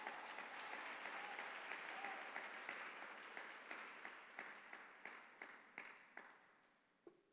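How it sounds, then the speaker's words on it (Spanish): Church congregation applauding during a sermon, a dense wash of many hands clapping that thins and fades over several seconds into a few scattered, separate claps at the end. "Dele un fuerte aplauso al Señor."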